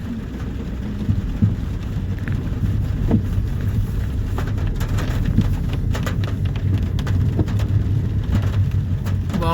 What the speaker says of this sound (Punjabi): ਅੱਜ ਬਹੁਤ ਜ਼ਿਆਦਾ ਮੀਂਹ ਪਈ ਜਾਂਦਾ